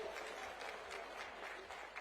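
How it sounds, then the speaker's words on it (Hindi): A crowd at a political rally in Jind, Haryana, welcomes Punjab Chief Minister Bhagwant Mann with steady, continuous applause that sounds faint and distant throughout, with no talking over it. "एक बार जोरदार तालियों के साथ प्यार से स्वागत कर दीजिए"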